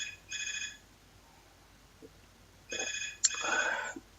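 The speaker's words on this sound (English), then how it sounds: "And my phone's ringing." A telephone rings in two bursts of electronic bell-like trills, a short one and then a longer, louder one after a pause, with a brief click between them and no voices.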